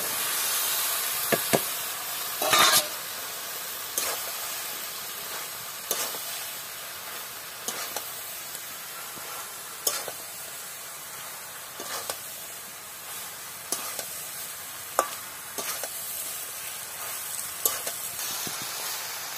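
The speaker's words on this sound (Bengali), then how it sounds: "এইবার আমি কাঁঠালটাকে দিয়ে" Half-ripe jackfruit pieces go into a pan of spice masala fried for five minutes, giving a steady close sizzle and hiss broken by scattered sharp clicks and scrapes of a spoon, with no talk.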